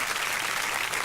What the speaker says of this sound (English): Let's give him a round of applause, man.